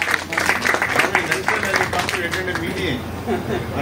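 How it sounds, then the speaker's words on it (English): An audience applauding to welcome a speaker at a valedictory event, steady dense clapping from a crowd, with a voice speaking over it. "Let us give him a round of applause."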